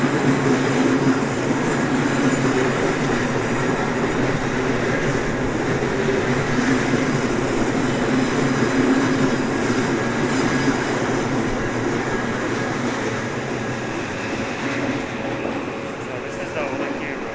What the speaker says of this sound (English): Looks like another train coming.